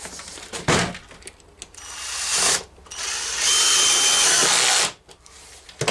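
A power drill drives a screw into wood for a turkey decoy in several loud bursts of whirring. Short pauses separate the bursts, the longest run comes in the middle, and there is a thunk near the start.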